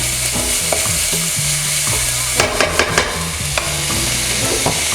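Cabbage stir-fried in a pan with curry leaves and desiccated coconut gives off a steady close sizzle, with stirring scrapes and clatters bunched in the middle, and no voices.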